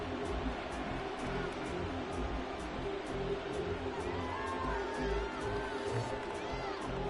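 Stadium crowd at a Chicago Bears versus Minnesota Vikings NFL football game, a steady, dense roar of distant voices and murmur holding at an even level throughout, with no sharp peaks of cheering.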